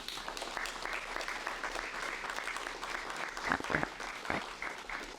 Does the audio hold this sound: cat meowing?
no